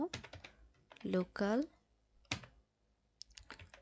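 Someone types HTML code into Notepad on a computer keyboard, with scattered clicks of the keys under someone talking nearby.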